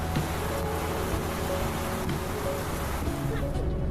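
Steady rain falls heavily in Burundi, a dense, even hiss of drops on surfaces close by, with a faint low rumble underneath and no pauses throughout.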